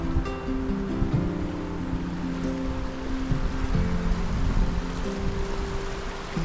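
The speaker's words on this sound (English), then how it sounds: "The West Fork is moving pretty good right now." The West Fork river in Idaho's wilderness rushes steadily past a backcountry campsite, a loud, continuous wash of flowing water with no break across the clip.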